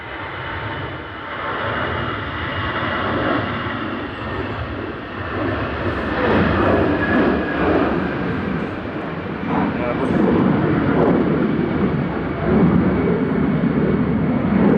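An EasyJet Airbus A320 Classic takes off at gusty Manchester Airport, a loud, broad jet roar that builds and stays strong, with wind buffeting and someone talking over it.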